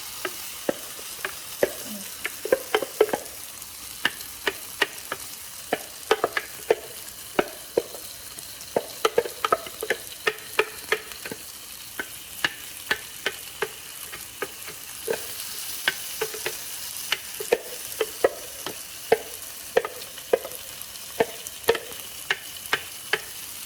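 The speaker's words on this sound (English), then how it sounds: "And just stir fry." Spinach saag with paneer is stir-fried in a frying pan: a soft, steady sizzle runs under repeated irregular scrapes and taps of the utensil against the pan, with no talking.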